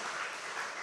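Applause from a church congregation at an online Wednesday worship service as teachers' names are read out, a brief steady burst of clapping with no voices over it.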